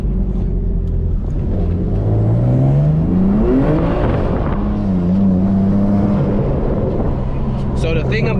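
A BMW M3 engine revs hard with the wheels spinning during a drift, its pitch sweeping up and falling back in long, loud surges, with a voice talking over it.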